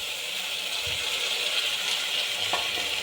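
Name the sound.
tomatoes frying in hot oil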